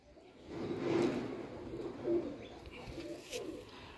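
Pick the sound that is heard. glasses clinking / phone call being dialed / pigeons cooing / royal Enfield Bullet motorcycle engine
pigeons cooing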